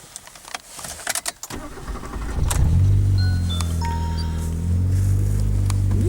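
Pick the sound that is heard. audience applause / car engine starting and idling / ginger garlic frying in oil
car engine starting and idling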